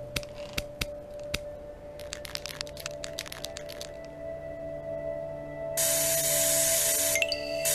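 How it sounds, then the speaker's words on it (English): Spray can in a Meta Quest Pro VR game being grabbed and shaken with several sharp rattling clicks, then a steady hissing spray burst near the end, close and fairly quiet. "Grab, shake, and spray."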